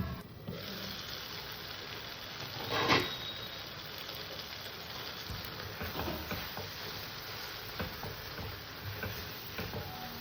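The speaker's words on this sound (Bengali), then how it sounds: "আবারও টমেটোটাকে আমি ভালো করে সুন্দর করে কষবো" Tomatoes cook with salt in a pan for tomato chutney, giving a faint, steady sizzle with scattered light ticks and one brief louder clatter. No one speaks.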